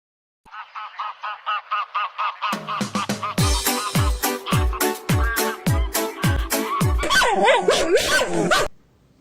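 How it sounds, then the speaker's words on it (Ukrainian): A dog barks repeatedly in a steady, loud rhythm, with honking geese calling alongside at first and chattering throughout, ending abruptly. "Чуєте, як гавкає собака?"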